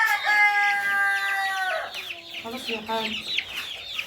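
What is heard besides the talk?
chickens squawking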